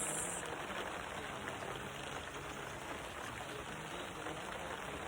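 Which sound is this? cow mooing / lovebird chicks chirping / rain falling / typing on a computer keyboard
rain falling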